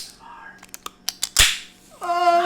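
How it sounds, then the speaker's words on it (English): A cold Raze energy drink can being opened close to a microphone: a few light taps and clicks, then a sharp crack and hiss of the tab. After it comes a brief tonal squeak. "That's the sound of a nice cold Raz energy drink"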